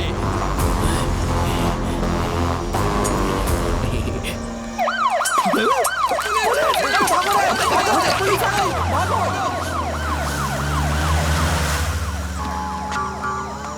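A wailing ambulance siren sweeps up and down repeatedly, loud and close, over traffic noise after a brief stretch of other sound.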